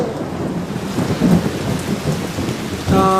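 Heavy rain pours steadily with rumbling thunder rolling underneath, a dense, close downpour with a brief louder crack near the end.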